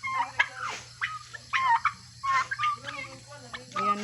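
Turkeys gobble repeatedly in a provincial yard where they graze on grass, several bursts overlapping at close range over a low steady hum.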